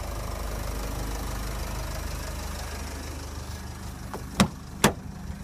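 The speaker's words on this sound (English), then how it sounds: "Got a very quiet engine actually." A 2008 Nissan X-Trail 2.0 dCi diesel engine idling, a low steady quiet rumble, close by, with two sharp knocks like a door near the end.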